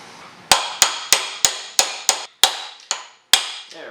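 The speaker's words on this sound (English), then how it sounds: "I need to pop this thing through the other end with the socket so that I can pull out the other piece" Hammer strikes on a socket driving a bearing pin out of a Jeep CJ7 AMC 20 rear axle, nine sharp metallic blows in a steady then slightly slowing rhythm, close and loud with ringing decay, no talk.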